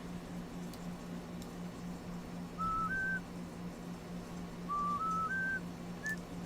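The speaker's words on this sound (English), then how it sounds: "Whistling." Whistling inside a video game: a few short, clean whistled notes, a pair followed by a rising run of three and a final note, heard alone over a quiet background hum.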